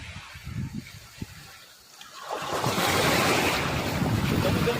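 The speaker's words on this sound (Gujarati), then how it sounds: "લહેર બહુ મજા આવે." Sea waves wash in at the shore, starting as a low murmur and swelling after a couple of seconds into a steady, loud rush of surf mixed with wind noise on the microphone.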